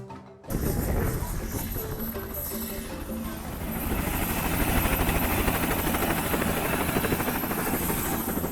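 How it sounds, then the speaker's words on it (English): A helicopter's loud, rapid rotor thumping and turbine whine begins abruptly after a brief silence and continues steadily nearby, at Victoria Falls, Zimbabwe. "our helicopter arrives from its previous flight"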